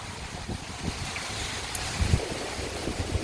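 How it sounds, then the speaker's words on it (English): Strong wind gusts roar during a severe thunderstorm in Virginia Beach, Virginia, a steady rushing blow with low buffeting surges and microphone rumble that peak briefly midway through, no talking. "It's going to be a strong gust here."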